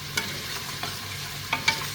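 Beef bones simmering in a pot of broth are stirred, giving a few faint scraping clinks against a low bubbling sizzle, alone with no talk.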